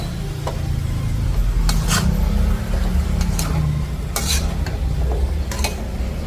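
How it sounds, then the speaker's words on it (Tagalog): Pork giniling with squash (kalabasa) is stirred in a pan over a low sizzle, with repeated sharp scraping strokes of the utensil against the pan every second or so, close and loud with no talking. "Tapos haluin natin."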